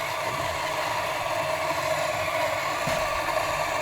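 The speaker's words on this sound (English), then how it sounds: "We put it in our grinder and we grind it." A coffee grinder grinds a 20-gram dose of coffee beans with a steady, even motor whir and crunch that holds for about four seconds at moderate loudness, with no talk.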